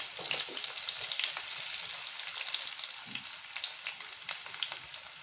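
Onions sizzling in hot oil alongside green chillies, a steady crackling fry with occasional stirring scrapes, close and continuous, no talking.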